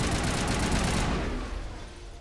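Sustained rapid gunfire in the video game Mass Effect, a loud dense burst of shots that fades and thins out toward the end, with no talk over it.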